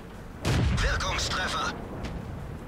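A tank cannon fires in World of Tanks, a sharp boom followed by about a second of rumbling tail and mechanical game noise, with a player talking over it.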